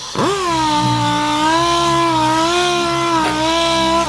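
A power sander runs flat against the curved body panel of an EP3 car, a loud, steady mechanical whine with a strong tonal hum throughout and a brief dip in pitch near the end as pressure shifts.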